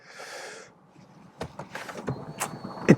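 Power driver's seat of a Subaru Solterra electric SUV sliding back: a soft motor whir for under a second, then a few sharp clicks and interior knocks.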